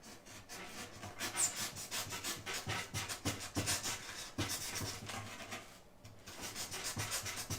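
A hobby knife cutting a small bevel into modelling material, heard as close, rhythmic scraping and rubbing strokes that repeat steadily for several seconds.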